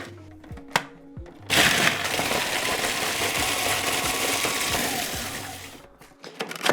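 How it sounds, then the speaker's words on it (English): Shop-bought gingerbread biscuits crushed in a blender into crumbs: a few short clattering knocks, then a loud, steady grinding whir of blades and breaking biscuit lasting several seconds before stopping, with scattered clunks at the end. "I'm gonna pop them into my blender, break them up as I do"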